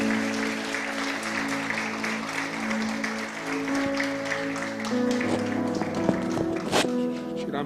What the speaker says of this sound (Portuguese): Dá outra salva de palmas para Jesus.